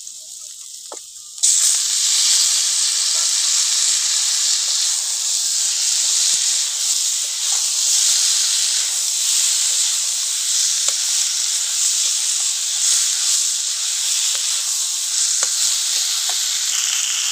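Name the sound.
fried potato and eggplant added to hot pan, sizzling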